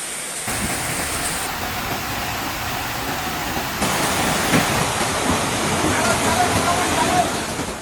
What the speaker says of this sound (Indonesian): Hujan belum reda, Sungai Plumbon kembali meluap.